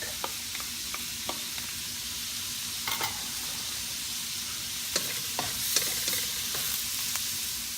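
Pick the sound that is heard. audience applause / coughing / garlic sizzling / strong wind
garlic sizzling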